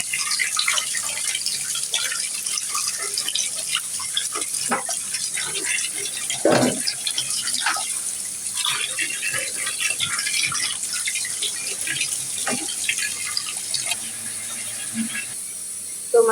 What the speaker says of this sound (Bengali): মাংসটা আমি ধুয়ে নিব এখন।